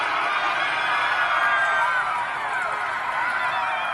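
Large crowd gathered at a college in Utah on a Wednesday afternoon, a steady, dense roar of many voices cheering and murmuring, fairly close and continuous.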